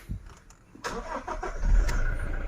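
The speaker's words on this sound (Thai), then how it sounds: "ติดเครื่องได้นะครับ" A flood-damaged car's engine cranks and catches, a short starter whir followed by the engine firing and settling into a rough idle, close by with no talk.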